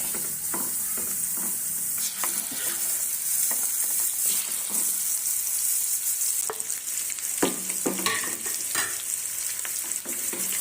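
Stuffed bitter gourds fry in a pan with a steady, bright sizzle, broken by occasional stirring scrapes and clinks, close and fairly loud with no talk.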